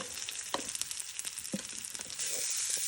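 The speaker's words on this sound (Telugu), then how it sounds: "ఇది ఫ్రై అవ్వాలి" Dried red chillies and spices frying in hot oil for a Telugu dal rasam, a steady bright sizzle with soft stirring clicks and scrapes, close and fairly quiet.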